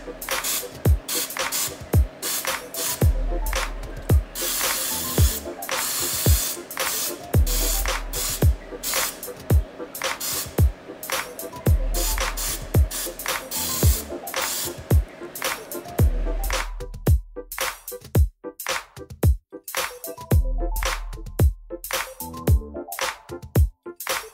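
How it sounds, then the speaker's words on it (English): A refillable, propellant-free oil sprayer mists olive oil in repeated short bursts of fine spray hiss, steady and close, with a brief pause and then quicker, choppier puffs toward the end. "Now the Misto Oil Sprayer using olive oil."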